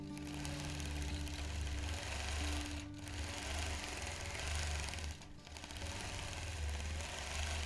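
A vintage sewing machine stitches through bunched fabric with pleats, a fast steady mechanical whirring chatter close up, briefly pausing twice before resuming its even run.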